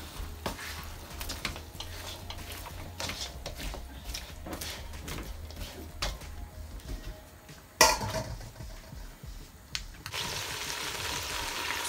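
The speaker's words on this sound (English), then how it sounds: "Now I'll give it a stir." Lamb neck stew is stirred in a pot with a soft sizzle underneath, the spoon scraping and clinking against the pot in repeated close strokes, with a sharper knock near the end.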